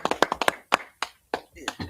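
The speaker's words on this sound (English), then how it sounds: "Clap it up for the prayers" Hands clap at a Shabbat service, first in a quick run of sharp, close claps, then in scattered single claps with gaps between them, and a voice speaks over part of it.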